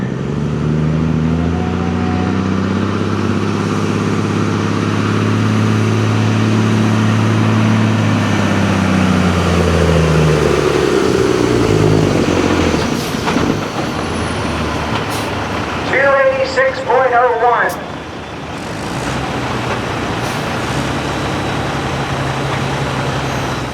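A semi truck pulling a weight transfer sled at a Millers Tavern truck pull, its loud engine roaring and rising in pitch through the gears, then a sharp hiss of air brakes and a lower idling rumble.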